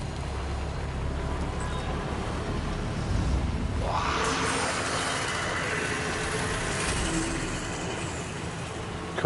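Tram rolling past in the Death Stranding 2 game world, a low rumbling rail noise that swells from around four seconds, with a brighter screeching wash above, moderate and somewhat distant, fading slowly while background ambience continues.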